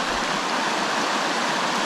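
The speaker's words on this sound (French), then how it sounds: "Cette jolie rivière." The Donaldson River in Tasmania rushes past close and loud as a constant, even wash of flowing water, heard alone without speech.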